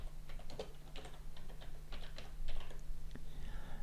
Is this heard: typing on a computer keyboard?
yes